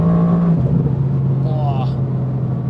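A 585 HP Mercedes-AMG GTR at full throttle, its engine drone loud and steady inside the cabin, the pitch dropping briefly as if on a gear change, with a faint voice at the end.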